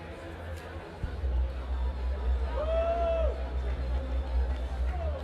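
Boxing crowd at ringside reacting after a bout, a loud broad hubbub of cheering and chatter under a commentator's voice, with a brief whistle-like tone rising midway.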